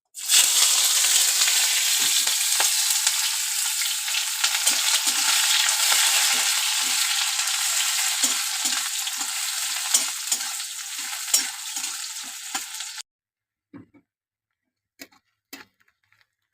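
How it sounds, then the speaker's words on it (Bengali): Crushed garlic dropped into hot oil in a pan alongside onion, giving a loud, steady sizzle with scattered crackles and stirring ticks for about thirteen seconds before cutting to near silence and a few faint knocks. "রসুনটা আমি থেতো করে নিয়েছি যাতে সেন্ট ভালো বেরোয়, আমি দিয়ে দেবো।"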